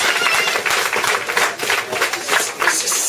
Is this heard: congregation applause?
yes